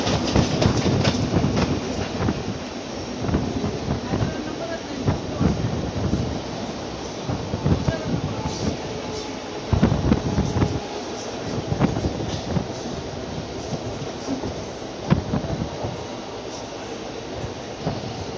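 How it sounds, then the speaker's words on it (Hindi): Two Mumbai local trains race side by side between Chhatrapati Shivaji Terminus and Kalyan Junction, heard from on board as a continuous loud rumble with rhythmic clickety-clack of wheels over rail joints. "और एक बार फिर रेस लग चुकी है अपनी दो लोकल ट्रेनों के बीच में"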